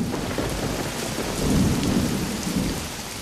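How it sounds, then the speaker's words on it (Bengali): A heavy night downpour hisses steadily while deep thunder rumbles and swells through the middle, close and enveloping, with no voices. "রাতের বেলায় মুষলধারে বৃষ্টি নামল।"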